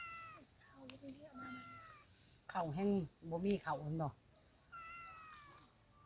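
A hungry cat meows several times, with drawn-out cries and a louder cluster of meows in the middle, close by while a person talks quietly.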